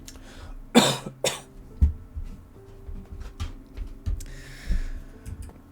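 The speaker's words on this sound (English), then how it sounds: "I'm going to cough." A person coughs a few times in quick succession, close to the microphone, with quieter throat sounds and faint clicks in between.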